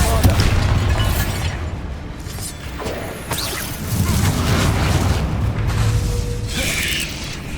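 Spell explosions from the Hogwarts Legacy video game, Confringo and Bombarda, crackle and boom in a dense, continuous barrage of bursts and pops, loud throughout with voices calling out underneath.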